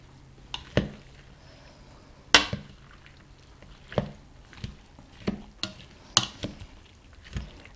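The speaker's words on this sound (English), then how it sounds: "I'm going to mix this up just a little bit more" Cabbage salad is tossed in a bowl, giving a series of separate clinks and scrapes of the utensils against the bowl with short pauses between them, fairly close and with no talking.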